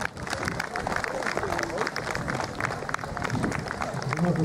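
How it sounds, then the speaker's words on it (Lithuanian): Audience applause fills a community gathering in Tveriškiai, a dense steady clapping from a crowd with murmured voices mixed in, lasting throughout. "Paplojam, negi gaila aplodismentų."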